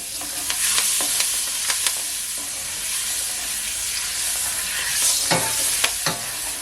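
Garlic and fresh thyme sizzle in a pot for Jamaican curry chicken, a steady hiss of frying broken by several sharp scrapes and knocks of a spoon against the metal as it is stirred, close and fairly loud.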